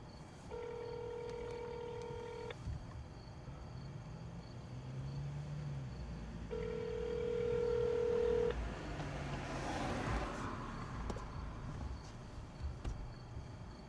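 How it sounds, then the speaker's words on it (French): Telephone tones on a call being placed: two long steady electronic beeps a few seconds apart over a faint background hiss and murmur. "je vais appeler Chante"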